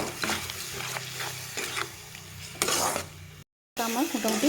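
Tomato and chili paste frying with coriander and cumin powder in a pan, sizzling steadily while a spoon stirs and scrapes in repeated strokes, with a short silent break near the end.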